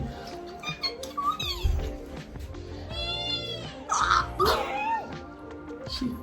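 A cat meows several times, with short drawn-out calls and squeaky tones over some faint background noise.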